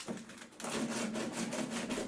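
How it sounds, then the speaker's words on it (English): Slow, steady strokes of hand sanding on a catamaran cross beam tower, done indoors. The rasping comes in a quiet, even rhythm with no talk. "I do these small sanding jobs indoors."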